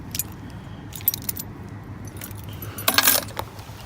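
Keys jangling and clinking in short bursts, a few light metallic rattles followed by a louder jingle near the end, close by with low background rumble and no talk.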